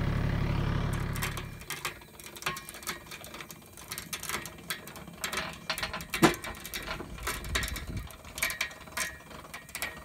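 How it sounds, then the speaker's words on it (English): A hand-cranked winch on a hay dolly trailer lifting a hay bale, giving steady ratcheting, clicking mechanical sounds with gear clatter throughout, close and fairly loud, with a heavier rumble at the start as the load takes up. "As I crank that handle, it's just going to pick that bale up and set it over against that bar right there."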